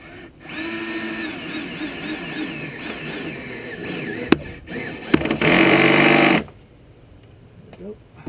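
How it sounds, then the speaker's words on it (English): A power drill bores through the frame of a teardrop trailer, whining steadily for several seconds, then running at a louder, higher pitch for a sustained burst before cutting off abruptly. "I'm just drilling right through the frames here"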